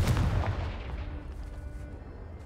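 A fiery Confringo spell blast in Hogwarts Legacy on PS5 erupts as a loud, near boom at the start, then rolls off into a fading rumbling tail with no talk.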